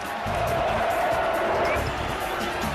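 A celebrating crowd cheers and shouts steadily after their team's win, a dense, continuous roar of many voices throughout, fairly loud and unbroken.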